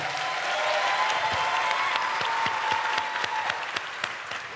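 Sustained round of applause from a small studio audience on a podcast, dense clapping throughout, with a faint voice underneath.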